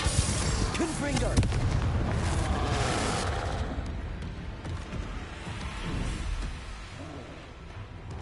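Explosive Confringo spell cast during combat in Hogwarts Legacy, a loud booming blast with rumbling and crackling that fades over several seconds, with a voice in the mix.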